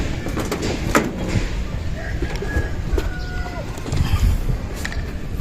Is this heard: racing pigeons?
yes